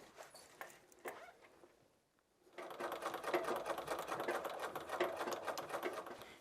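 Wool slippers are stitched on a sewing machine in a steady, rapid close-up whir that runs without a break after a few soft handling sounds and a short pause.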